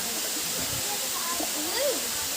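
Bisibis Falls waterfall in Quezon province produces a steady, dense hiss of falling water that fills the whole clip, with faint voices talking softly underneath.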